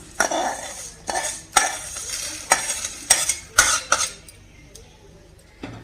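Coriander seeds dry roasting in a pan are stirred with a utensil, giving a series of scraping, rattling strokes about once a second that thin out near the end, with no speech over them.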